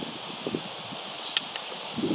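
Steady, breathy wind noise rushes across the microphone outdoors at a musket firing demonstration, with a couple of brief sharp ticks partway through.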